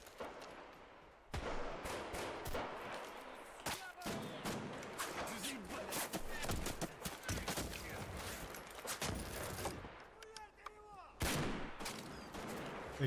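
Gunfire from an Escape From Tarkov raid: loud bursts of rapid shots and scattered single cracks, broken by short pauses, with voices mixed in.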